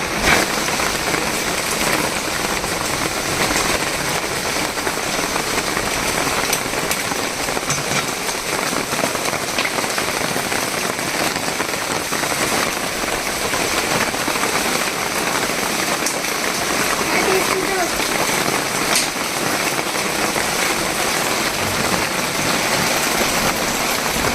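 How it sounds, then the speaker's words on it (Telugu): Heavy rain pours steadily outdoors during a rainy spell, a loud, dense, unbroken hiss of drops with no pauses or voices. "వెనకాల వాటర్ పడిపోతున్నాయి"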